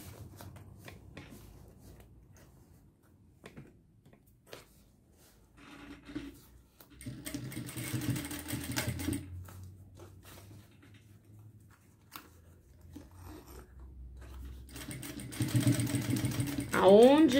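A sewing machine stitching a seam on a square fabric pouch whirs in two main bursts of running motor and needle clatter, with quieter handling noises between them.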